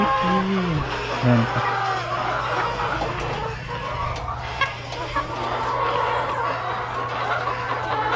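Chickens cluck and squawk in a noisy yard, several birds calling close by over a steady low hum, with a voice speaking now and then.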